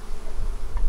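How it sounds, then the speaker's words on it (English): A dense, steady buzzing of many honey bees in a hive, close and continuous, with a low droning hum throughout. "There's a lot of bees."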